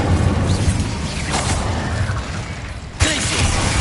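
A fire spell is cast in Hogwarts Legacy amid booming combat noise, a dense rumbling blast that settles and then erupts in a sharp burst near the end, with a voice faintly present.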